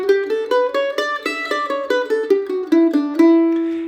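A mandolin picks a rising then falling E Dorian scale, each note struck crisply at an even pace, loud and close, ending on a ringing low note with no other sounds.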